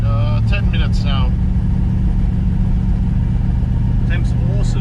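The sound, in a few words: Ford 351 Cleveland V8 engine running during cam break-in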